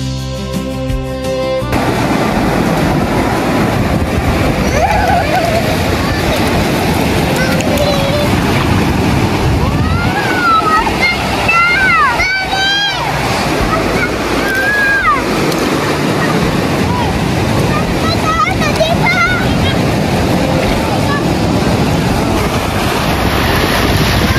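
Sea waves washing steadily at a beach where a family is swimming, a continuous broad surf roar with wind buffeting the microphone and a few faint voices and calls over it.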